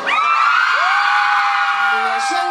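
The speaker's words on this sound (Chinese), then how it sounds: "尖叫只有这样吗？" Crowd at an outdoor fair concert screaming and whooping, a sustained loud wall of high-pitched cheering that rises and holds, with a few voices standing out near the end.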